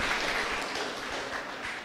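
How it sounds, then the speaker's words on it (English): An audience at a sustainable tourism meeting claps in a dense, even burst of applause that lasts about two seconds without fading. "Clap for yourselves."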